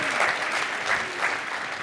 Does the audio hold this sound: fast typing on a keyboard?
no